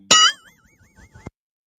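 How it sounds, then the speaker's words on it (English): A notification bell sound effect gives one bright, ringing ding that quickly fades into a wavering electronic tone, ending with a short click. It is close and clean against silence, with no talking. "ring that bell so we get notified when I post a video"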